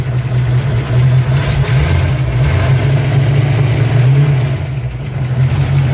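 A rusty Ford Mustang's engine running with an exhaust leak, a loud close-up rumbling idle with a strong low throb and raspy, puffing exhaust noise, swelling slightly at times, with no talking.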